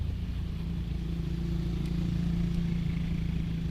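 A motorcycle with its stock factory exhaust runs steadily close up, a low droning engine note with a continuous throaty rumble throughout and no speech.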